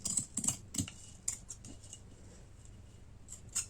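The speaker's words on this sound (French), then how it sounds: "je vais couper le surplus ici" Excess material is snipped from a béarnaise jar being transformed in a craft project, with quick, close, light cuts and clicks in a short irregular burst.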